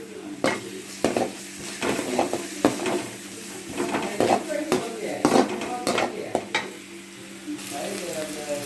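Onion and tomato fry in a pan for red sauce pasta, with a steady sizzle and repeated clinks and scrapes of a utensil stirring against the pan in an irregular rhythm.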